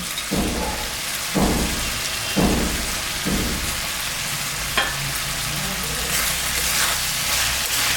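Small mixed fish that were fried earlier, including moya, chanda and shrimp, are stirred into a pan of radish curry, with a steady sizzle and several soft stirring bumps and scrapes at an even pace.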